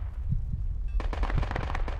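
A rapid burst of automatic gunfire crackles in the Project Reality military game, a string of sharp, closely spaced shots starting after a brief low rumble and running to the end, fairly close and with no voices.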